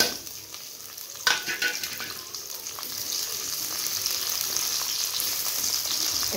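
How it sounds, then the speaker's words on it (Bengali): Chopped onions dropped into hot oil in a wok, giving a brief splash-like burst and then a steady, fairly loud sizzle and crackle that holds throughout with no voices. "তেলটা গরম হয়ে গেছে, আমি কাটানো পেঁয়াজগুলো দিয়ে দেব।"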